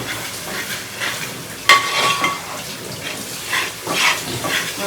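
Tomato and green chilli being stirred in a frying pan, with scraping and spoon strokes over a steady sizzle, one sharp clank near the start, close and fairly loud.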